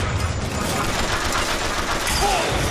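Dense, continuous gunfire from Bioshock Infinite fills the clip at steady loudness, a chaotic firefight with many shooters at once.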